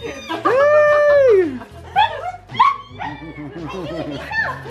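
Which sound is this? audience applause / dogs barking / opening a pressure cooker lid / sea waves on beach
dogs barking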